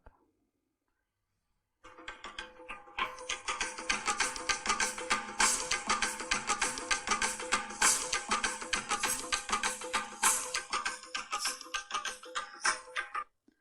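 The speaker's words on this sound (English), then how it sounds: "that's the sound of shamanic tambourines." Shamanic tambourines burst in after a short silence, shaken and struck in a dense, steady rhythm of bright jingling for about ten seconds, close and loud, then stop abruptly.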